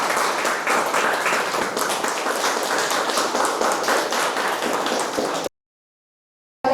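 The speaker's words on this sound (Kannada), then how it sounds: "ಜೋರಾದ ಚಪ್ಪಾಳೆಯೊಂದಿಗೆ ವೈಷ್ಣವಿ ವಿಶೇಷ ದಿನವನ್ನು ಆಚರಿಸಲು" Loud, dense applause from an audience at a roadside protest blockade against land acquisition, steady clapping filling about five seconds before cutting to silence.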